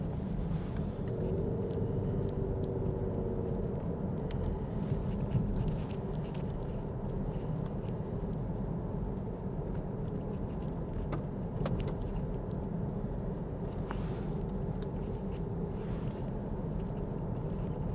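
Steady interior rumble of a car driving through Berry Hill in Mansfield, a continuous low road and engine drone with no talking.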